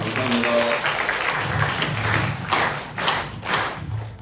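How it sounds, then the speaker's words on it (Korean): A church audience at a lecture gathering applauds to welcome the speaker, a steady wash of many hands clapping close by that swells in a few waves before fading. "큰 박수 부탁드리겠습니다"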